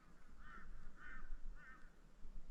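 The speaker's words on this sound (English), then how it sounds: "Apart from those crows over there." Crows call from some distance away, three evenly spaced caws over a still, quiet evening at a rock face in Litchfield National Park, with no one speaking.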